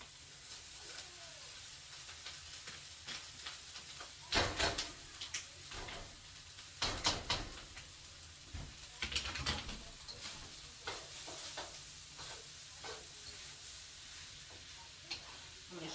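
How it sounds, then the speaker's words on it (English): Rice tipped into a pan of cooked chicken and vegetables for fried rice, giving a soft continuous sizzle broken by scraping stirs and clinks of the utensil against the pan. "I'm going to get the rice added in here."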